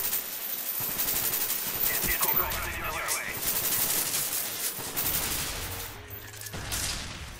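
AK-47 fire in a Call of Duty game: sustained automatic bursts crackle loudly and almost continuously, with a brief lull near the end as the shooting resumes.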